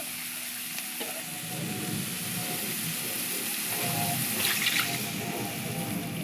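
Water poured into a pan of frying fish-roe mixture hisses and sizzles steadily at close range, with stirring and a faint splash, no talking.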